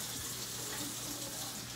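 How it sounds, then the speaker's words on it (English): Water pours steadily into a baking pan holding ribs for gravy, rinsing seasoning off the pan's sides; a continuous close splashing trickle with no talk. "Get my seasoning off the side of the pan with the water."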